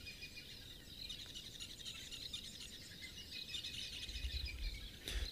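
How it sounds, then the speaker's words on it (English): Birds calling in the cool early morning on an African safari, a soft chorus of high chirps and trills over faint insect buzz and quiet ambient noise, with a sharp brief sound near the end. "we can just hear a lot of the birds are making the most of these nice cool temperatures."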